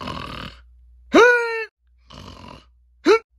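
A voice imitates snoring for a Withered Chica plush character, with a raspy inhaled breath followed by a loud rising voiced snort, repeated twice with short silences between.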